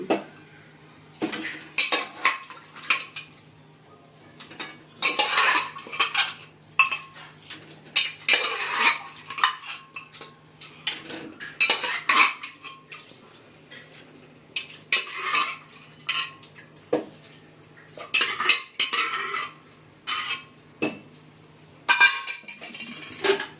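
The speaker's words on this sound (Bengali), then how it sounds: "চলো মশলা কষানো হয়ে গেছে, এবার মাটনগুলো দিয়ে দিচ্ছি।" Pressure-cooked mutton being stirred and sautéed with fried spice paste in a pot, the spoon scraping and clinking against the metal in repeated close strokes over a faint sizzle, with no voices.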